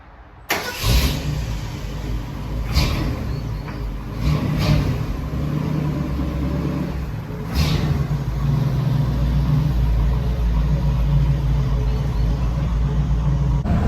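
A Ford Highboy truck starts up nearby and pulls away, its engine revving loudly in a few surges before settling into a steady, droning run.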